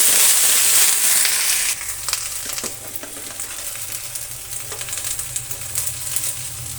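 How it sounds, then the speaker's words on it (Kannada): Okra frying in a pan, a dense sizzle that is loud and bright at first, then settles into a steadier crackle with occasional clinks and scrapes of stirring. "ಈಗ ನಾವು ಬೆಂಡೆಕಾಯಿನ ಚೆನ್ನಾಗಿ ಫ್ರೈ ಮಾಡ್ಕೊಂಡಿರೋಣ"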